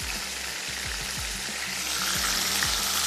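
Beef seekh kababs fry in a pan, giving a continuous close sizzle and crackle that swells slightly toward the end, with a low rhythmic hum running underneath and nobody speaking.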